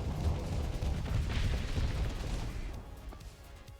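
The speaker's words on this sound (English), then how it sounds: "Oh my god, the torpedo volleys." Torpedo volleys explode in a Starsector space battle as a dense rumbling wash of booms and bursts that fades toward the end.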